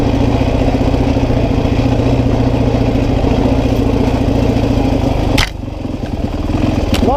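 A 2005 Honda CRF450X dirt bike engine runs steadily while engine braking down a steep descent, a loud continuous low drone that drops off abruptly near the end before building back up.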